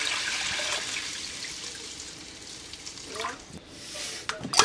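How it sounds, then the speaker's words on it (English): Fresh water pours into a pot of washed peas, a soft, steady splashing and trickling that fades, then returns in a few brief gushes near the end. "Get some fresh water on here."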